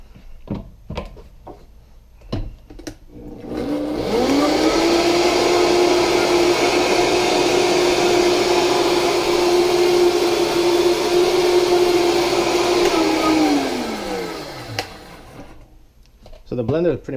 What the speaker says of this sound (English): So the blender is pretty much self-cleaning.